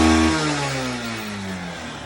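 Engine of a Bajaj Platina motorcycle, 25k driven, running steadily close by, a loud continuous rough hum with a slowly falling pitch and no talk.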